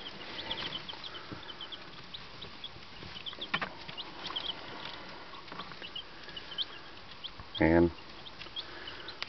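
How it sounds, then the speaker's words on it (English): Six Leghorn chicks kept indoors in a camper peep in faint, scattered high chirps over a soft background hiss, with one louder, closer burst of calls near the end. "But that's 6 leghorn chicks."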